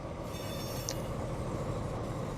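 An Arriva Trains Wales train in Train Simulator 2017 pulls away with a steady low rumble and rolling drone, plus a brief faint high squeal, heard from the cab with no talk.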